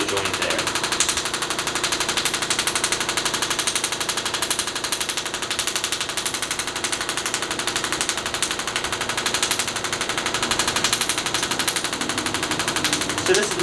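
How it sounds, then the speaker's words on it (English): A radial pulse therapy device works over the elbow during chiropractic treatment for golfer's elbow, giving a loud, continuous rapid mechanical buzzing pulse that runs steadily throughout without pause. "this radial pulse is penetrating deep into the musculature"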